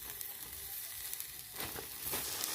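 Grated coconut being stirred into thickened, sticky jaggery in a pan, giving a steady soft sizzle with scraping stir strokes that grow busier toward the end.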